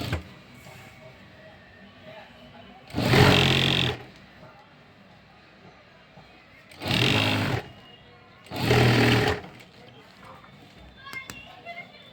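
A sewing machine stitches the side seam of a stand-collar kurti in three short, loud whirring bursts separated by quiet pauses, with faint background noise between runs.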